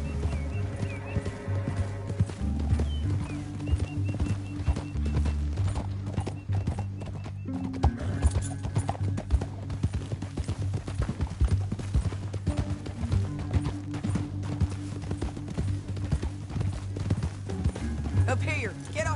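Horses galloping in a Western-style PS4 video game, rapid clip-clop hoofbeats and an occasional whinny running continuously over a droning musical score.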